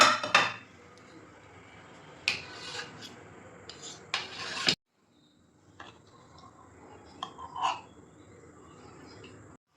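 A utensil cuts through set kharvas, a soft colostrum pudding sweetened with jaggery, in its pan: a few sharp scraping taps against the vessel, then a quieter stretch with light clinks and a final short scrape.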